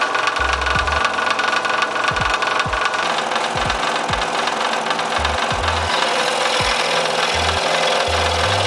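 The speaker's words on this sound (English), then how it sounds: "So I'm gonna trim this off, sand it down a little bit" Steady dry rasping of a wooden ultralight fishing lure being trimmed and sanded by hand, close and continuous, with occasional soft low knocks from the work.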